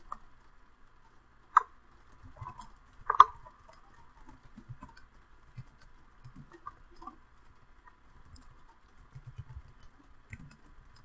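A computer keyboard clicks faintly and irregularly, with scattered light taps and a couple of sharper key strikes in otherwise quiet surroundings.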